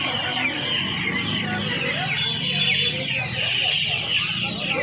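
Dense, continuous clucking from many chickens close by at a poultry market in Uluberia, a busy overlapping chorus with faint background voices.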